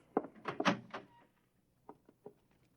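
A house door is opened for the morning paper, giving a few close thunks and clatters in quick succession, then quieter knocks after a pause, with no talk over it.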